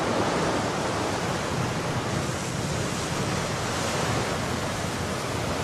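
Ocean surf on a Santa Barbara beach rolls in as a steady, loud wash of broadband noise with wind, continuous and without talk.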